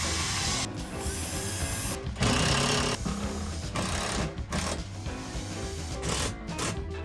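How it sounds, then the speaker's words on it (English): Screws are driven into a sailboat's ceiling with a power driver, a loud, continuous whirring grind broken by brief pauses between screws. "let's start screwing"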